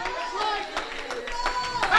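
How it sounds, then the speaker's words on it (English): Churchgoers in a congregation clap their hands in praise during a sermon, a steady patter of many hands close by, mixed with crowd murmur and voices. "go and get a Lord a hand clap of praise"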